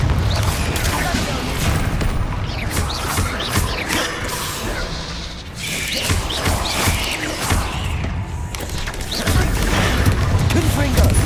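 Repeated fire spell casts in Hogwarts Legacy, heard as loud, dense bursts of blasts and crackling effects over a steady rumble of game noise, with several spells in quick succession.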